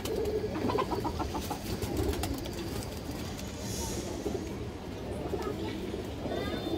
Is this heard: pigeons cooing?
yes